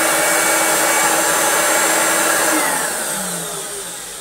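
A refurbished Hoover Turbomaster U5078 upright vacuum cleaner, fitted with a HEPA filter, runs with a loud steady whine and airflow roar, holding constant before it begins to wind down and fade near the end.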